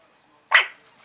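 A Havanese puppy gives one sharp, close bark out of near silence, short and bright, followed by faint room tone.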